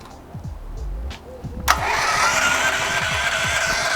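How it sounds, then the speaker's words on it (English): A WGen 7500 generator engine turns over and catches. Low, rhythmic cranking thumps come first, then it bursts into a loud, steady running roar that carries on close by to the end. "you can start the engine"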